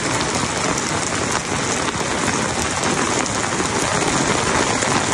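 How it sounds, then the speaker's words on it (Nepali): Heavy rain pours down steadily and loudly on surfaces close by, a dense, unbroken roar with no voices heard. "जाम पानी पर्यो घर जाम"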